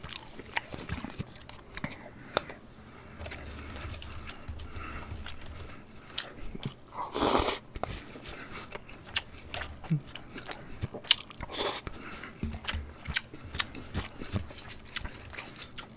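Crunchy eating sounds of eggplant being bitten and chewed during a Korean home-style meal of beef bulgogi, tuna kimchi stew and kimchi pancake, with soft, close, irregular mouth noises.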